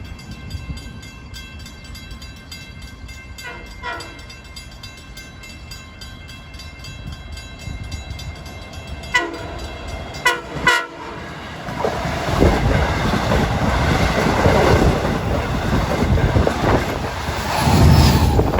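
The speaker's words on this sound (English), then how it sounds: "our last train seen on this nice evening of diesel fanning here at New Hyde Park at 7:23 is train 559" A six-car diesel commuter train, number 559, running from Oyster Bay to Jamaica, approaches New Hyde Park with repeated horn blasts, then roars past loudly with rumbling wheels and engine noise that builds toward the end.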